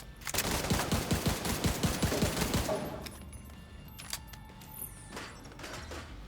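Rapid automatic gunfire from a video game gun, a dense close burst of repeated shots for a few seconds, then quieter mechanical clicks and a short rising electronic tone.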